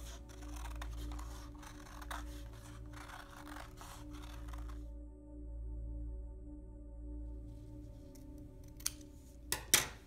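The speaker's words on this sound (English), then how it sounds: "Then we are going to cut that spiral" Scissors cut a paper spiral for an optical illusion color wheel craft: steady, close snipping strokes over a low hum, then a quiet pause and a few sharp clicks.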